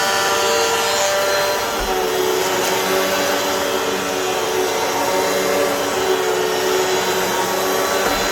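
A Hoover vacuum cleaner running continuously after a belt replacement, a loud steady motor whine with airflow rush and no break, close by.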